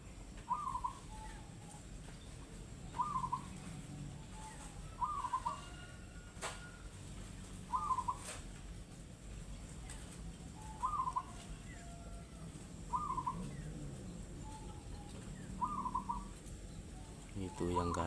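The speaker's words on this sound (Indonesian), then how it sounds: "perkutut" A zebra dove (perkutut) gives short cooing phrases at a steady rhythm, about every two to three seconds, moderately distant, over a constant low background hum.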